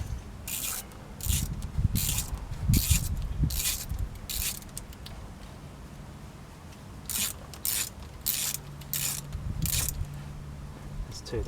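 A hand ratchet clicks in short repeated bursts while small grease-covered bolts that retain a bearing are backed out, the sharp rapid ratcheting close up with pauses between strokes.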